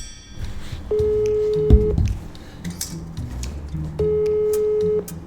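Two clear phone dialing tones, each a steady electronic beep lasting about a second, sound close and alone for a prank call, separated by a brief thump and low background murmur.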